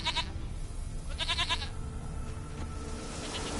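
A goat in The Witcher 3 video game bleating: two bursts of nasal, wavering bleats, one at the start and a longer one a second later, over a loud steady background of ambient game noise.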